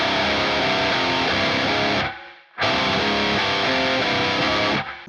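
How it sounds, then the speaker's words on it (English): Heavily distorted electric guitar chugging power chords on the open string in a metal style, dense and loud, cut by a brief silent gap before the riff resumes. "they just add some power chords on the open string"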